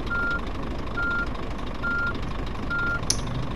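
A truck's reversing alarm beeps in the driving game On the Road, four evenly spaced beeps about a second apart over a constant engine rumble, with a short click near the end.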